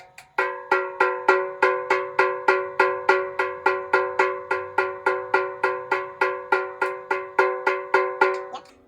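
A snare drum head tapped about twenty times at a steady, even pace during tuning, each hit ringing with a bright pitched tone, close and alone.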